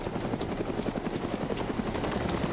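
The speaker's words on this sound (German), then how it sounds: "diese Helikopter bringen mich schon wieder um" A helicopter in the survival game DayZ Origins thumps close by, its rotor pulsing in a fast, steady rhythm over a constant engine drone, loud and alone.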